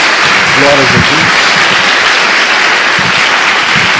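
Church congregation clapping in praise to Jesus during a service, a loud dense continuous roar of applause with a few voices calling out briefly underneath.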